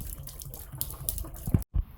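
Water draining from the drain port of a domestic water heater during its yearly flush, a close, continuous splashing trickle with a few louder gurgles and a brief dropout.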